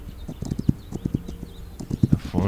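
Horse hooves clip-clop in a steady run of sharp, fairly close beats across a game landscape, with a brief whinny-like cry near the end and no talk.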